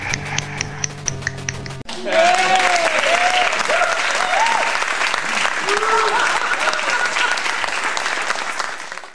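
A small group claps enthusiastically for several seconds at close range, a dense burst of applause with a few whoops and laughter mixed in, after some brief tapping.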